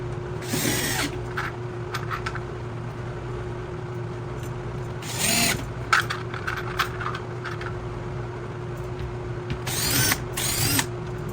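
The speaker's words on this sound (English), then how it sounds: "I'm going and just put the rest of the screws in" A power drill drives screws into a tool wall in three short whirring bursts separated by quiet pauses, with small handling clicks and knocks between them, close and clear.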